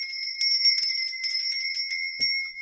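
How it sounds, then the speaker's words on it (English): A small bell rings repeatedly in a quick, steady jingling rhythm to cleanse a space, bright and close, with a sustained high tone ringing under the strikes before a soft thump ends it. "I'm going to be ringing my bell to cleanse the space, the area."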